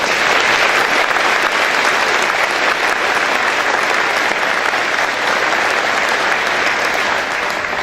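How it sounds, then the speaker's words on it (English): Sustained loud applause from an audience at a chamber of commerce breakfast, steady clapping for several seconds with no voices over it. "if you'd give them some applause"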